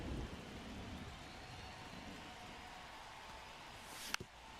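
Steady rain hisses throughout a baseball video game, with a brief sharp crack near the end; no voices.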